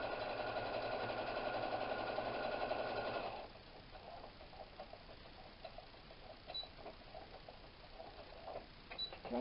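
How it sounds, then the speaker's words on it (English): A sewing machine top stitching a cotton tote bag runs in a fast, even whirring chatter for about three seconds, then stops, leaving faint handling clicks and rustles, quiet and close. "So this is top stitching from the top."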